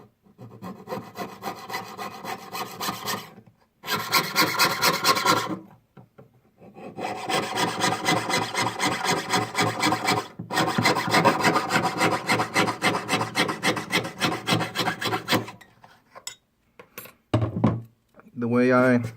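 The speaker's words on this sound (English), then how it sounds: "let me just cut this part off real quick." A hand saw blade cuts through metal for an ID bracelet nameplate, rasping in quick back-and-forth strokes in several bursts separated by brief pauses, close and loud.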